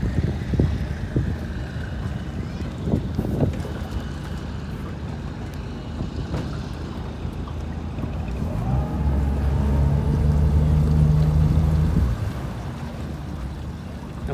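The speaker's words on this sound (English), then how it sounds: "We're just backing out a boat now" A motorboat engine rumbles at low, steady idle while backing away from a dock, growing slightly louder and fuller midway as the boat moves off slowly, with some wind noise.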